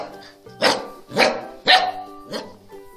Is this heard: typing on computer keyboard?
no